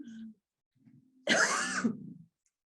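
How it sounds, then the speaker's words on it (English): A single loud, rough cough bursts out close by after a brief moment of quiet, trailing off into a raspy throat sound. "I keep getting a tickle every once in a while. It's nothing major, it's just, it makes you cough."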